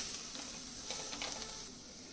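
Turmeric and red chili powder frying in a pan for a few seconds, a quiet, bright sizzle with light stirring that fades slightly toward the end.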